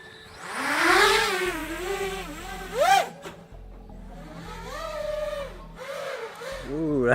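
A UAV Futures quadcopter racing drone built for 100 mph whines overhead, its motor pitch sweeping up and down in rising and falling waves as it passes and turns, fairly loud and near, with voices briefly in the background.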